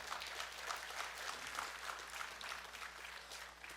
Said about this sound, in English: that'd be a good time to clap